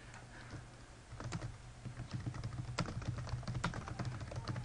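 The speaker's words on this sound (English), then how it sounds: "You type right where it says answer, right in the middle of it." Quiet, steady typing on a computer keyboard as an answer is entered, rapid soft key clicks in an irregular stream over a faint low hum, close by with no voices.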